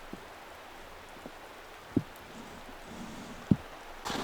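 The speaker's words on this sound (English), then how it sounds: "Why doesn't it just stop raining?" Persistent rain falls at a winter campsite as a steady soft hiss, with a few sharper drops landing on a nearby surface at irregular intervals.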